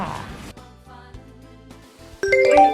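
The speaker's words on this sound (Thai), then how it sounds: "เจ้าขุนทองแจ้งเตือนแล้ว" A phone's notification alert tone: a bright, loud electronic chime rings out in the final half-second, entering suddenly over a softer tonal musical background.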